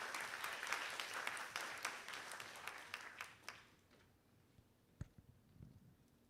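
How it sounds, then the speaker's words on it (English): An audience at a high school students' conference applauds for a few seconds to welcome a professor, dense clapping that fades out, followed by a couple of faint knocks and handling sounds in a quiet hall. "let's give applause to welcome the Professor Xie"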